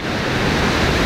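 Ocean waves at Huntington Beach, a steady loud broadband wash of surf, with no voices over it.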